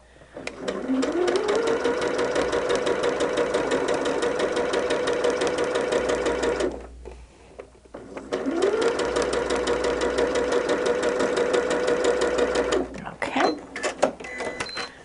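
Sewing machine stitching quilt borders for a Black Bear quilt: two long, steady runs of fast mechanical whirring, each about six seconds, split by a short pause and followed by a brief stop-start burst, close and loud with no talk.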